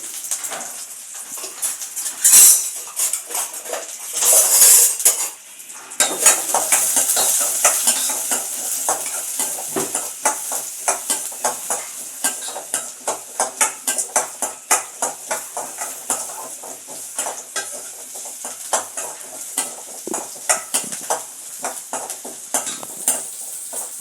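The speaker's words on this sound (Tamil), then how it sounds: "சின்ன வெங்காயம் சேர்த்து வதக்கிக்கலாம்" Shallots and fennel seeds being sautéed in a pan for an ivy gourd curry, giving steady frying sizzle with repeated scraping stir strokes, close and fairly loud throughout, with no voices.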